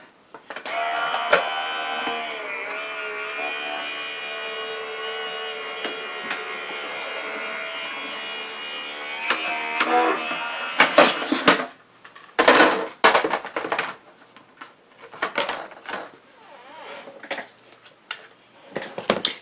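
A die-cut embossing machine runs an embossing folder through, a steady mechanical hum with tonal whine for about ten seconds, followed by sharp clunks and bursts of handling noise.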